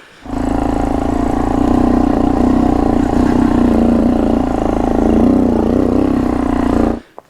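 A Honda Monkey motorcycle engine strains hard in first gear while climbing uphill off road, giving a loud, steady, close droning roar that holds for about seven seconds before cutting off abruptly.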